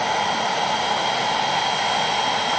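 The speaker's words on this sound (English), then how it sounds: "You can hear the blower blowing" An electric blower pushes air into an inflatable raft with a loud, steady rushing roar, close and unbroken from start to finish.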